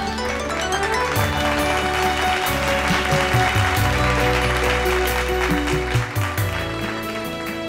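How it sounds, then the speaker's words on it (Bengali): Loud applause for the singer AB rises from an audience while music plays, the clapping a thick, continuous layer mixed with a busy musical backing throughout. "একটা জোরে হাততালি এবির জন্য।"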